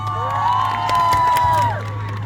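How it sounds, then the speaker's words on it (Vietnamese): A pageant audience cheers and shouts over a steady low hum, loud and sustained for about two seconds with overlapping voices, then eases slightly. "Xin cho một tràng vỗ tay thật lớn quý vị"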